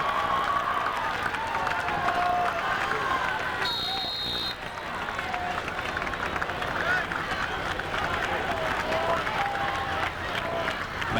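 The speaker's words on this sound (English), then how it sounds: "Very large crowd on hand at Roncalli High School." Large crowd of fans at a high school football game at Roncalli High School, a continuous roar of cheering and clapping from the stands, heard at a distance as a steady wash.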